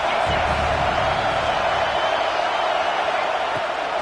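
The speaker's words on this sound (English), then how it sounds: "how nice is it to have the home crowd going absolutely bananas?" Home crowd at a Louisville at Georgia college football game cheering loudly, a thick constant roar of many voices that stays level throughout, broad and enveloping like a packed stadium.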